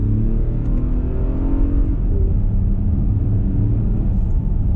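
A 2022 Lexus RX350 F Sport engine pulls under acceleration, a loud steady low rumble from inside the cabin with rising engine tone and road noise.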